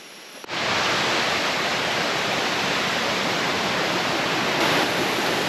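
A mountain stream on a hiking trail near Lata Makau rushes steadily, close and loud, a dense unbroken wash of flowing water that starts abruptly after a brief quiet moment.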